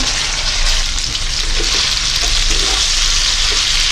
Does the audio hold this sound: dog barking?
no